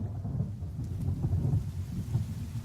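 Rain falls steadily in the video game The Forest with low rolling thunder rumbling underneath, a constant soft wash of drops with no voices.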